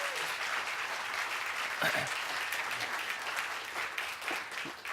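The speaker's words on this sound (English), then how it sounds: "Let's give Colleen a round of applause." Steady applause from an audience, many hands clapping continuously at a fairly distant, moderate level.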